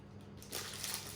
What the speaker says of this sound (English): And when you bite it, it's like glass, isn't it? Very crunchy.